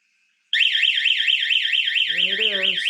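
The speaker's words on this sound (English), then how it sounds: "Here's the alarm up there. We're going to turn it on here." Wyze home alarm system siren under test, a loud warbling electronic wail that starts abruptly after a faint tone and keeps cycling rapidly, with a voice talking underneath near the end.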